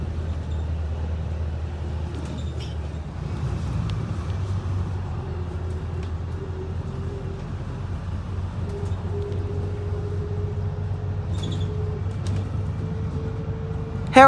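Traffic heard from aboard a local bus stuck in traffic in Keynsham in the suburbs of south Bristol: a steady engine drone and road noise with shifting hums and a few faint chirps, no talking.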